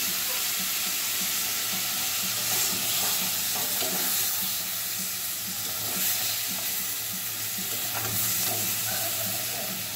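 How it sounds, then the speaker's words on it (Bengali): Raw kalbaush fish sizzles and fries steadily in a pan of spice masala, a loud continuous hiss with faint stirring scrapes throughout. "আমি এখন মাছগুলো দিয়ে মাছটা কিছুক্ষণ ধরে আমি কষিয়ে নেব।"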